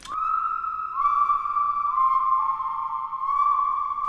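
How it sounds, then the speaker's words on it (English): A steady, clear whistled tone holds and glides between a few pitches, sustained for several seconds with no talking. "Is that whistling? Sounds like it."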